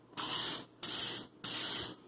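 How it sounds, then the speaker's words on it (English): Three short, even bursts of cooking oil spray hiss onto an air fryer basket before breaded chicken goes in, each about half a second, close and clear. "I'm going to spray it so that none of it sticks"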